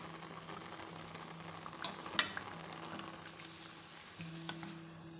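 Red chana fries gently on a slow flame in a pan, giving a quiet, soft sizzle with a few faint clicks of stirring, low and close.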